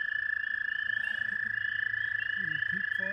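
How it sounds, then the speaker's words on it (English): A peeper frog gives a steady, shrill, high-pitched peeping trill that runs unbroken throughout, close and clear, with faint low background sounds beneath. "There's the elusive Peeper Frog."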